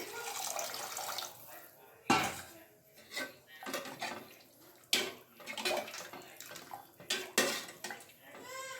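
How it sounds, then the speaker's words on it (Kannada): Water splashes and pours intermittently into a pot for vegetable soup, with clattering kitchen sounds and a few sharp knocks, close and fairly loud. "ಇನ್ನೊಂದು ಸ್ವಲ್ಪ ನೀರು ಹಾಕ್ತಿದ್ದೀನಿ"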